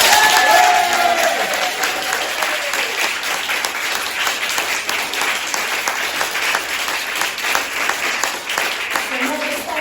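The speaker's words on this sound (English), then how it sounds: "Big clap for Artless!" An audience at a book launch event applauds for an absent author, a sustained wash of dense clapping with scattered voices, fading slightly toward the end.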